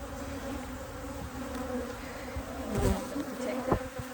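Bees buzz continuously around a top bar beehive, with a close, steady hum and a few louder passes as individual insects fly near.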